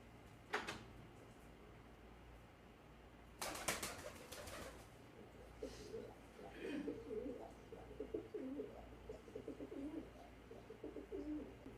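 A pet pigeon coos in soft, repeated low burbling phrases through the latter half, preceded by a couple of sharp clattering knocks, all fairly quiet and close indoors.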